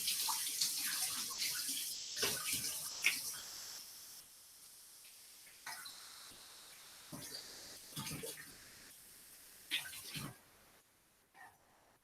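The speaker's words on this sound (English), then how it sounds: "So I'm gonna quickly wash these hands again because gross." Hands being washed under a running tap, water splashing and hissing close by, unevenly broken as the hands move through the stream, then fading at the end.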